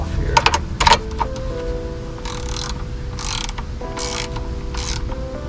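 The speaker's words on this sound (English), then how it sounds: "pass-through socket, which is basically like a wrench. You know, you can use a box inch wrench for this as well. So 10mm to get this off here." A pass-through socket wrench ratchets against a 10mm bolt on a 1998–2002 Honda Accord headlight assembly, giving close, crisp clicking bursts in short separated runs with no talk.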